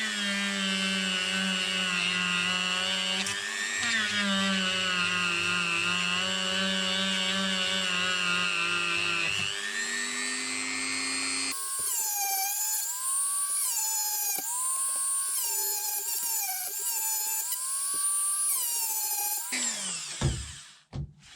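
A high-pitched power tool whines continuously on an aluminium piece for a car interior build, its pitch shifting as the load changes before it winds down at the end.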